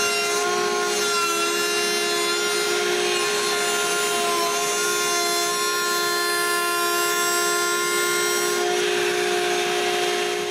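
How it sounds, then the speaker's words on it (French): A router table in a woodworking shop cuts holes for strip locks in a wooden part, giving a loud, steady high-pitched whine with bright harmonics and a gritty cutting rasp, running continuously with a slight change near the end. "j'utilise la table de toupie pour couper les trous des strip locks."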